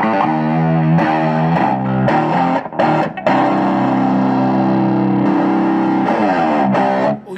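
Crunchy overdriven electric guitar played through a tube power amp in a rack setup, chords ringing loud and sustained over about seven seconds with brief breaks near the three-second mark and at the end.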